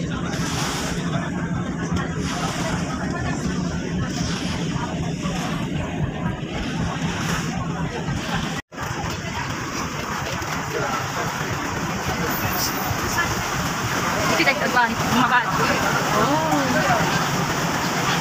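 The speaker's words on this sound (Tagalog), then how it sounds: "Ganito lang po yung ferry dito." A ferry cruising across the water in Hong Kong gives a steady, broad rumble of engine and rushing water that stays even throughout, with a brief dropout midway.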